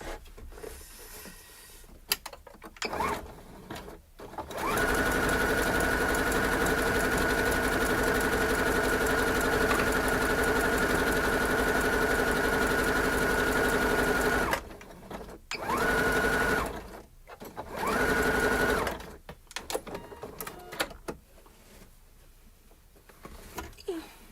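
A sewing machine stitches fabric in one long steady run of about ten seconds, then two shorter bursts, loud and close, with quieter handling noises before and after.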